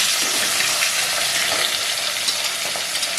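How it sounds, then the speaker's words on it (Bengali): Fish heads frying in hot oil under a lid make a dense, steady sizzle with soft spattering, close and continuous, with no voices over it. "এইভাবে ঢেকে ঢেকে মাথা কটা আমি সুন্দর করে মাছের মাথাটা সুন্দর করে আমি ভেজে নেব।"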